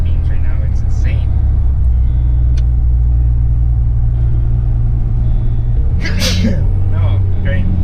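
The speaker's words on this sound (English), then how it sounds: "Oh, great. I sneezed." One sudden, loud sneeze inside a truck cab at night, rising over a constant heavy engine rumble while driving on the road.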